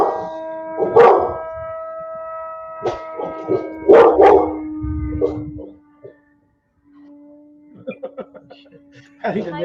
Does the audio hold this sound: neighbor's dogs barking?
yes